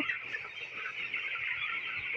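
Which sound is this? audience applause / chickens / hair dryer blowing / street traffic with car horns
chickens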